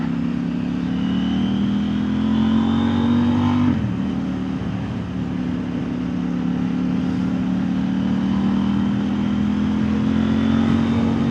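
A CFMOTO 800NK motorcycle is ridden on a road after rain, its engine droning loud and close with a steady rising pitch, a brief gear-change dip partway through, then settling into an even cruise.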